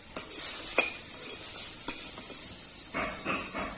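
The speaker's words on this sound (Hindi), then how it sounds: "अब हमारा आलू को हम तल लेंगे।" Potatoes frying in mustard oil in a hot wok give a steady, bright sizzle, with a few sharp clinks and scrapes from stirring scattered through.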